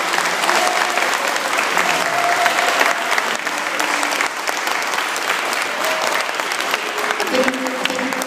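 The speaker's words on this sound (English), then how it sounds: "So if you could give a round of applause to the guys." A large crowd applauding steadily at a civic reception for a city victory parade in York, dense continuous clapping held for several seconds with voices calling beneath it.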